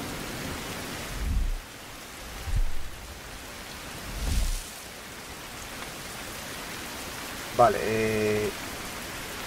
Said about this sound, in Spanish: ¿Podría dejar de llover?